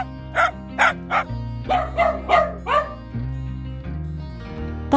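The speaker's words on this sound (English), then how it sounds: "Dog barking sounds." A dog barks repeatedly, about eight sharp close barks in an uneven rhythm, over a steady background music bed, with no speech.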